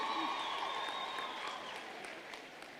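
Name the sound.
audience applause at campus inauguration ceremony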